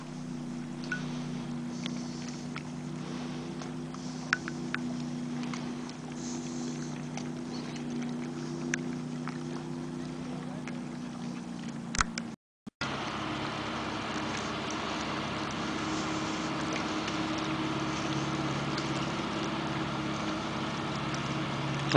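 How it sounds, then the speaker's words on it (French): A wakeboat's engine rumbles steadily across a lake, a low droning hum heard from a kayak amid wind noise, continuous for the whole stretch with a brief dropout midway. "Ça, c'est un wakeboat qu'on entend. C'est très bruyant comme type de bateau."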